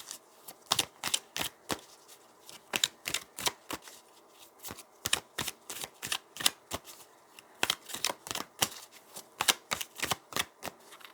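Tarot cards shuffled in quick riffling bursts, crisp close-up flicks grouped in rhythmic clusters with brief pauses between, fairly quiet and alone without talking.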